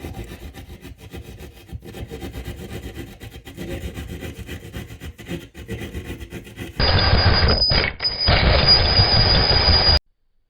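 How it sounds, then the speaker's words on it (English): Drywall being cut by hand for a hose opening in a shed being converted into a tiny home, a steady rasping saw stroke for about seven seconds, then a louder, denser cutting noise until it stops abruptly near the end. "right now I'm just cutting a hole in the drywall for the hose to go through"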